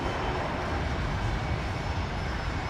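Steady broadband roar of a Boeing 737 in New Guinea livery taxiing at Brisbane airport, a constant engine rumble and hiss heard from a distance with no voices.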